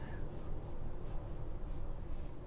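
A brush moves across paper writing a Japanese calligraphy character, a soft continuous scratchy rustle with faint stroke swells, quiet and close, with no voices.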